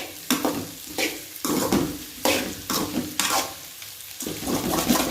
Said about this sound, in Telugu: సో ఈ విధంగా ఫ్రై చేసుకొని బాగా కలుపుకోవాలి.